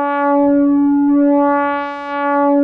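Steady buzzy synthesizer tone from a VCO in single-cycle sync mode, used as a harmonic tilt one-shot generator, held for nearly three seconds with a slowly sweeping brightness that rises and falls, heard alone.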